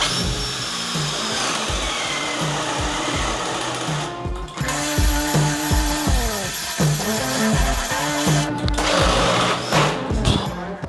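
A DeWALT cordless drill bores a 40 mm bit into wood, whirring loudly with rhythmic surges and brief pauses as the bit bites and cuts through the timber, close up.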